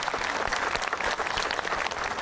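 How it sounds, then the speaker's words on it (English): Applause from a crowd at a Ford car dealership's 100th anniversary celebration, a dense, steady clapping that fills the room with no talk over it. "please give yourself a big round of applause"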